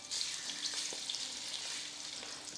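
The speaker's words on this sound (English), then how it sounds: "we're going to fry them, and we're just going to leave them and then turn them over for around 6 minutes" Chicken pieces for a Mughlai desi-style curry frying in a pan, a steady loud hissing sizzle throughout with a few faint taps, close and continuous, no talking.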